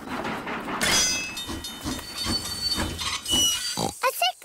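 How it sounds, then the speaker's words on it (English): Cartoon train rolling along a track, rhythmic rattling chugs with puffs of steam and a brief whistle-like squeal near the end, fairly loud and close, mixed with background voices. "Clickety-clack, clickety-clack, the train runs on the track."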